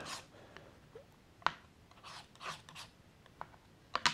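Palette knife scraping up oil paint from a palette during an oil landscape sketch: a few short, faint rasping scrapes in irregular bursts, close and quiet with no talk.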